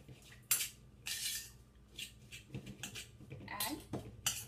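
A spoon scrapes and clinks against a bowl while mango filling is mixed with mawa and sugar for modak, irregular close metallic strokes with quiet talk underneath.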